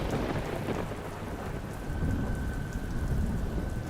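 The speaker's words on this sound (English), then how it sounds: "The rain came down so hard, it didn't sound like water anymore." Heavy rain pours down in a dense, roaring hiss while low thunder rumbles underneath, loud and constant throughout, with no talking.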